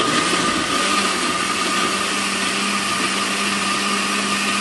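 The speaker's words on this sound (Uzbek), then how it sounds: "Urib olamiz blenderda." A kitchen blender whirs steadily as it purees strawberries with ice for a homemade mojito-style drink, a constant high motor hum running evenly throughout with no talk.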